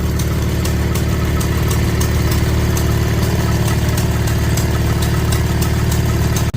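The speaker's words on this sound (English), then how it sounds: "Got a McCormick engine running a vacuum pump" An old McCormick stationary engine drives a vacuum pump for a milking machine at a tractor show, chugging with a steady, even rhythm throughout, loud and close with no talk.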